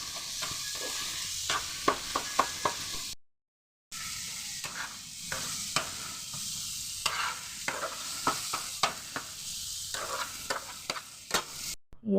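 Dried fish fries and is stirred in a pan, giving a low, steady sizzle. Repeated sharp scrapes and clicks of the spatula come in uneven bursts, with a brief silent gap partway through and no talking.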